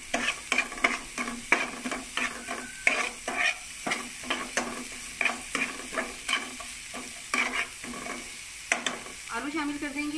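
Spices are roasted with sautéed onions for a samosa filling, a spoon scraping the pan in steady rhythmic strokes over a low sizzle, with a brief voice near the end.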